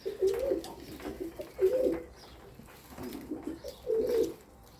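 Pigeons in a loft give soft, low coos in three short bursts over a few seconds, fairly close but quiet against a faint room background.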